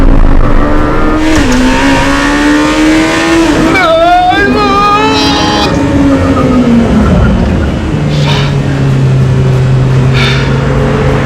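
A 2026 Lamborghini Temerario engine revs up through rising and falling pitch sweeps, loud and continuous, with a steady drone and passing road noise beneath.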